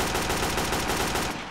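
A submachine gun fires a rapid, unbroken burst in the video game Enforcer: Police Crime Action, loud and close, stopping abruptly just before the end.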